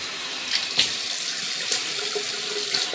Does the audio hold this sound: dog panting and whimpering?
no